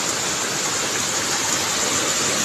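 Heavy nighttime rain with flooding roars as a dense, steady hiss of water, loud and constant without a break.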